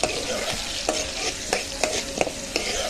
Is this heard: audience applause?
no